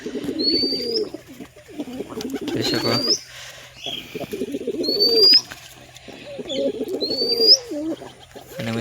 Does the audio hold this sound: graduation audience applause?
no